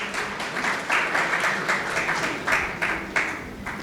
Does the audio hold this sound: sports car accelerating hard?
no